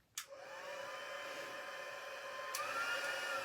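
A handheld embossing heat tool whirs steadily at close range after a click on, a continuous airy blowing hiss with a faint tonal hum, with a brief click midway.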